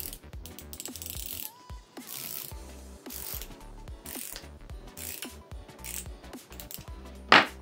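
A flexible ratchet handle is worked by hand during disassembly, giving repeated close metallic ratchet clicks and whirring gear sounds in bursts, then a sharp clack near the end, with no talk.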